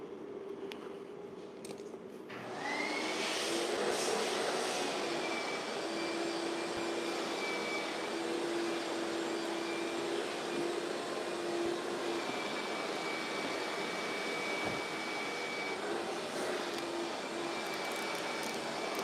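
A heat gun warms vinyl wrap on a food trailer: after a couple of quiet seconds, a steady, loud blowing whoosh starts up and drones on without a break.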